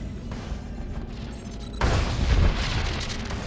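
A deep boom from an explosion in the video game Star Wars: The Old Republic breaks in partway through, swelling into a loud rumbling blast over a low hum.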